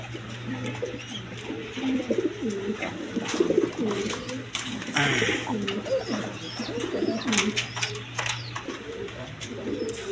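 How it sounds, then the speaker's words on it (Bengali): Breeding farm pigeons coo repeatedly nearby in soft, overlapping bursts, with a steady low hum and occasional rustling underneath. "ডিম বাচ্চা করানো কবুতর, খামারি কবুতর"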